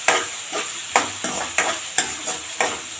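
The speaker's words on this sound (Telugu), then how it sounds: "కొంచెం ఉప్పు వేసి ఉల్లిపాయలు మగ్గేటట్టు చేద్దామండి." Thinly sliced onions with salt frying in a pan for a quick pasta dish, a steady sizzle broken by regular spatula scrapes roughly every half second, close up and with no talking.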